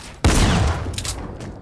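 Gunfire from an online battle-royale squad match, a sharp loud burst that hits at once and then thins into a decaying rattle and echo over under two seconds.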